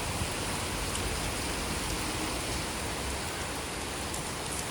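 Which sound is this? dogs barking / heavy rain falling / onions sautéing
heavy rain falling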